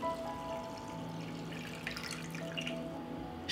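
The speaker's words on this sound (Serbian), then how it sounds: "I u šerpu sipam hladnu vodu do visine poklopca." Cold water pours into a pot holding jars set on a cloth, a steady trickling, splashing stream heard close and fairly quiet, with no talking.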